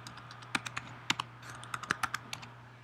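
Typing on a computer keyboard on a Mac while editing text in the Pages app: a quick run of separate, crisp key clicks at an uneven rhythm, close and alone over a low steady hum.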